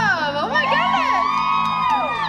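A concert crowd at a performance cheering and whooping loudly, a dense wash of shouts and high cries that stays steady throughout, with a voice audible in the mix.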